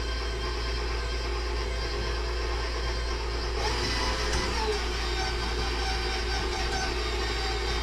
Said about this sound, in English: Sometimes mixers work, sometimes they don't.